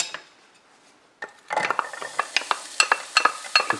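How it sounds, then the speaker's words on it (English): Onion dropped into olive oil heating in a pan, sizzling and sauteing with sharp crackles and scraping stir strokes, close up with no talking. "I'm going to add in my onion."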